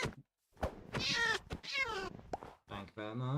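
A cat in the Minecraft video game meows several times, in clear, drawn-out calls with short pauses between them and no talk over them.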